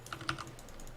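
Loud mechanical computer keyboard typed on during a Dota 2 session: a quick burst of sharp, close clicky keystrokes over about a second.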